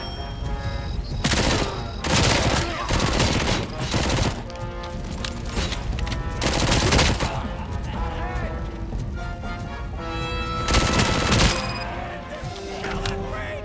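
Rapid bursts of Uzi-like gunfire ring out in RoboCop: Rogue City, loud clattering volleys repeating in clusters with brief gaps between, a voice occasionally heard beneath.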